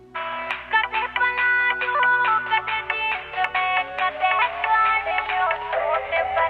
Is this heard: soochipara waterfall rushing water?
no